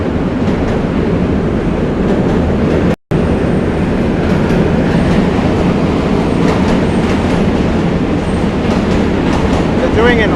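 A New York City subway train crossing the Manhattan Bridge in Brooklyn's DUMBO area, a loud, continuous roar of rattling wheels and clattering cars close by, with a faint squeal near the end.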